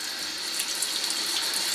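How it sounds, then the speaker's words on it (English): Tap water runs steadily from a faucet over a mica-coated item being rinsed, a constant close hiss and splash with no pauses. "So we're gonna stick it underneath the faucet"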